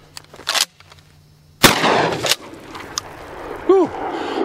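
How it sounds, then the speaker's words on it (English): A Mossberg 590 Special Purpose pump shotgun fires one loud, sharp blast outdoors, followed by a decaying boom and a few smaller clatters, with no talking over it. "First shot out of my new shotgun"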